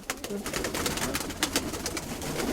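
Pigeons coo softly over a busy background hum of birds flapping and shuffling nearby.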